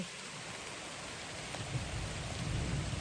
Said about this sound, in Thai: วันนี้ฝนตก พี่ ฝนตกหนักเลย